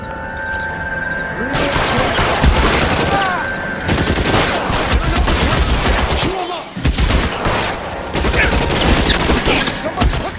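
Heavy gunfire in the 1940s police game LA Noire: loud bursts of rifle and machine-gun fire crackle close by in rapid overlapping volleys, with brief pauses and shouted voices in between.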